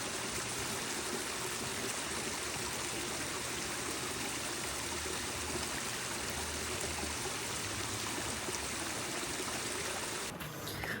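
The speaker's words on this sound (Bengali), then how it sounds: "ওই ছোট্ট ওয়াটারফলটা দেখলাম" A small waterfall stream in Shanklin Chine runs steadily, a continuous close rushing and trickling of water with no break and no voices.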